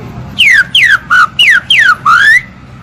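A person whistles an imitation of the green-winged saltator's song: six loud, clear, separate descending whistled phrases in a steady rhythm, heard alone and close up.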